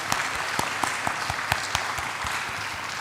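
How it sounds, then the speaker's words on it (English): Audience at an interfaith dialogue event applauding the speakers, with sparse individual claps standing out over a soft, steady bed of clapping at a moderate distance. "Please give applause to the both our speakers"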